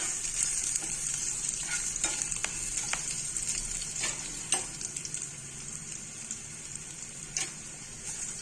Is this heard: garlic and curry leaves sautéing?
yes